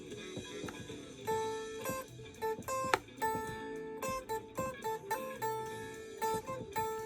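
Electric guitar jamming with two notes on one string, alternating in a loose improvised rhythm with crisp picked attacks and short gaps, played close and alone without any voices.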